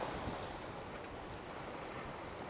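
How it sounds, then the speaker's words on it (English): Ocean waves and roughly 20-knot wind at sea aboard a small sailboat crossing the Atlantic: a steady, dense rush of water and wind noise fills the whole stretch without a break and with no voices. "The sea state has calmed down a bit, but this morning there were pretty high waves."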